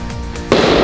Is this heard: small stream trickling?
no